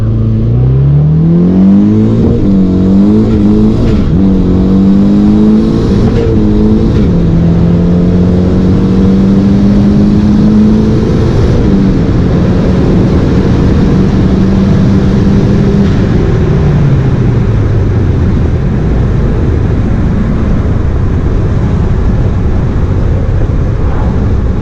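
A stock Honda D16Y7 running 18 psi of turbo boost pulls hard through the gears, its loud close engine note climbing in pitch, dropping at each shift and climbing again, with no talk over it.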